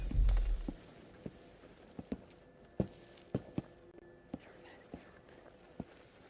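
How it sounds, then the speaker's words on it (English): Footsteps in the horror video game Into the Radius, set in a factory: a run of separate soft thuds about every half second, fairly faint and spaced unevenly, following a brief louder rumble at the start. "I heard footsteps."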